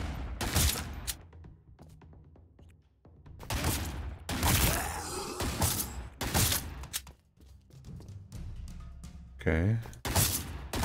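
Freezing shotgun firing repeatedly in the Badass Hero video game, loud bursts of blasts and thuds spaced every second or two amid game effects, with a brief spoken word.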